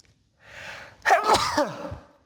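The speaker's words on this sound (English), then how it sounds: "I feel a sneeze coming on" One person sneezes once, close and loud, after a brief audible in-breath, the burst trailing off over a second.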